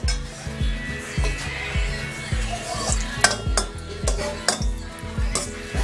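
Chilies frying in a pan sizzle steadily while a utensil stirs with a rhythmic, regular scraping beat and occasional sharp clinks against the metal.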